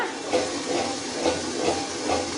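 Steam hissing steadily from a pressure cooker as its lid is opened after patrode rolls have cooked for half an hour, a close, constant hiss with soft periodic swells.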